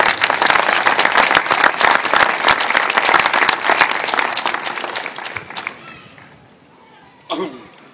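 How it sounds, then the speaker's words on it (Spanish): An audience at a neighbourhood political gathering in Oviedo applauds a speaker with dense, loud clapping for about five seconds, which then thins out and fades, followed by a brief voice. "Un aplauso para el compañero."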